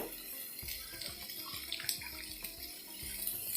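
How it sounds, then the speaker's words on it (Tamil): Water is poured steadily into a pan of sautéed onions while pesarattu is being cooked, making a continuous splashing rush with soft low knocks, close and moderately loud, with no talking. "2 கப் 3 கப் தண்ணி விட்டேன்."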